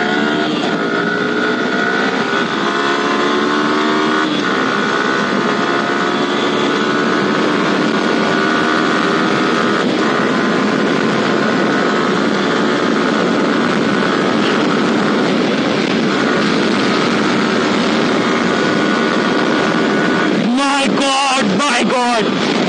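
A Yamaha R15 v3 motorcycle engine revs hard under heavy throttle, a loud continuous high-pitched whine rising and shifting through the gears, with a burst of wind buffeting near the end.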